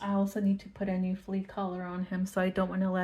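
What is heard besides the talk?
No distinct noise like a dog, phone or traffic.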